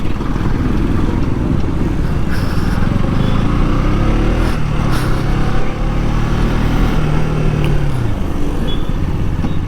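A TVS Apache RTR 200 motorcycle engine roars loudly and steadily, rising in pitch as it accelerates hard toward top speed, with a continuous rushing road noise throughout.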